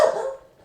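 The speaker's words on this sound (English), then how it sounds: "that's the wild dogs" Wild dogs bark once in a short, moderately loud burst that fades quickly, heard alone without talk.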